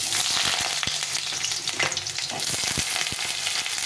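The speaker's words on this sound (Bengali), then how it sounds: "তেলটা গরম হয়ে গেছে আলুটাকে ভালো করে ভেজে নেব একদম" Steady, loud sizzling of potatoes frying in hot mustard oil, with crackles and occasional sharp pops and scraping stirs, close up and without talk.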